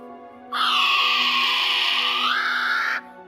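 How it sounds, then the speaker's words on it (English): A kiwi bird call: a single loud, harsh, sustained shrill cry of about two and a half seconds, steady and slightly falling near its end, heard alone and close. "The kiwi bird."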